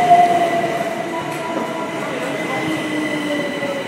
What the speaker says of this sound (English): My train home. 377 424 at the front.